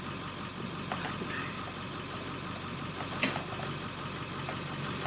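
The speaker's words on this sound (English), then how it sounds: "You can hear the T444E and the DT466E in the background." Two International school bus engines, a T444E and a DT466E diesel, idle in the Rigs of Rods driving game, a steady low mechanical rumble held in the background with a couple of faint clicks and no talk.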